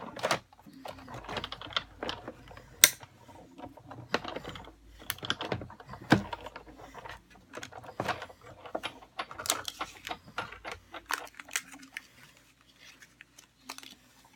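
Scissors or a paper cutter working through cardstock circles for a Stampin' Up! birthday card, a quiet run of short irregular snips and clicks spread across the stretch with no talking.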